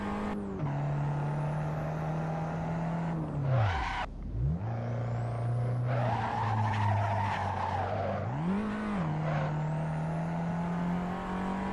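Racing car tires squeal and skid in the PlayStation 4 driving game Assetto Corsa, with long wailing slides over a droning engine note that dips and rises as the car shifts and accelerates, sustained through the whole stretch.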